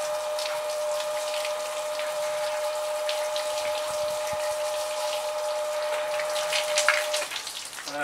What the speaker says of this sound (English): And I'll just give it a rinse again